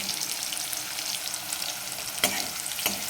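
Cashews, curry leaves and cumin frying in hot oil in a pan for prawn fried rice, a steady close sizzle throughout with a couple of light stirring knocks near the end.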